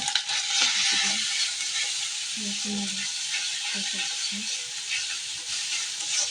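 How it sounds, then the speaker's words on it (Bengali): Spices and pumpkin fry for a fish curry, a loud, steady sizzle filling the whole clip, with a few faint low knocks and murmurs beneath the constant hiss. "মশলা দিয়ে তখন মশলাগুলো কষাচ্ছি কুমড়ো দিয়ে দিচ্ছি"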